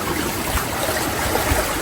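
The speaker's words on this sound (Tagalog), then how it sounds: "Mabilis ang paglabas po ng tubig eh" Water rushes out fast near a fishing net set among bamboo, a steady close gush with gurgles and low splashes throughout.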